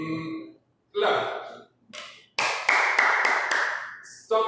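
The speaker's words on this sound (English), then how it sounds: "clap." Hands clap several times in quick succession, sharp and close, following a short spoken instruction, with a few crisp separate claps and a brief burst of rapid clapping near the end.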